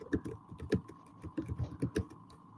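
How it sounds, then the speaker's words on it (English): Fast irregular keystrokes on a computer keyboard, close and fairly quiet, tapping in uneven bursts over a steady faint hum. "Can you hear me typing?"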